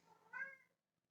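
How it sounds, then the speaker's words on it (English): A cat gives a single short meow, fairly quiet and close, with faint room noise around it, heard in the background while someone talks about a baseball game. "The cats are meowing in the background."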